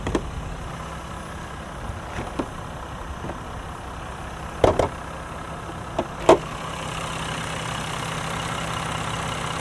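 The 3.0-litre turbo diesel in a 2020 Jeep Wrangler Rubicon idles quietly under an open hood, a steady low hum broken by a few faint clicks and knocks.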